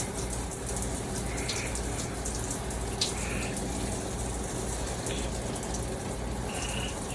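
Water runs steadily from an RV faucet with the aerator removed. It makes a constant, full gushing hiss close to the mic for the whole stretch. A few faint high tones sound briefly over it.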